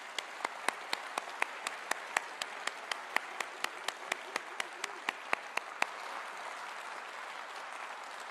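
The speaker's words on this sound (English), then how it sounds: "Let's give them a round of applause" Applause from an audience at a political event, a burst of distinct hand claps with sharp individual slaps over a steady clapping wash that fades into softer crowd noise for the last couple of seconds.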